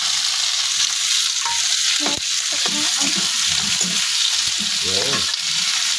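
Meat sizzles and fries in a pan for Batangas menudo, a loud continuous crackle with occasional stirring clatters, and a voice speaks briefly over the frying.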